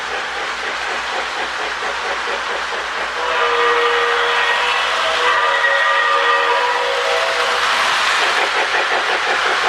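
Steam whistle from the sound tender of a Lionel 2029 model train, a continuous bright whistle blowing over steady chuffing and rail noise, louder from the middle on.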